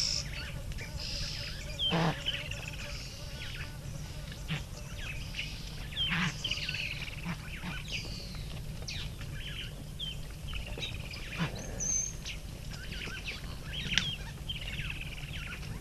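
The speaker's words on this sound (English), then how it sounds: "have a listen to the bird calls." Various birds call through a late-morning scene in the African bush, with scattered whistles and chirps near and far and a louder burst now and then over a soft, steady background.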